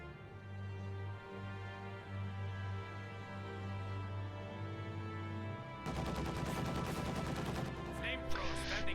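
Heavy gunfire erupts in a strategy video game as a field gun shells base defenses, a dense rattling burst of shots joining a steady low battlefield drone partway through, loud and close.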